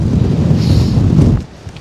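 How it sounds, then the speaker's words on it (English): Loud, steady wind roaring and buffeting the microphone on Ben Lomond in harsh winter conditions, with a rumbling low end that eases off near the end. "it's pretty windy"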